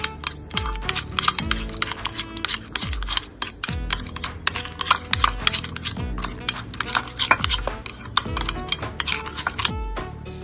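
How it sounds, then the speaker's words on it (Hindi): Caster sugar, salt and black pepper for a Waldorf salad are stirred in a bowl, producing quick, rhythmic clinks and scrapes of a utensil against the dish, close and fairly loud, with no talk. "Castor sugar, salt and black pepper. इसे हमें अच्छे से मिक्स करना है।"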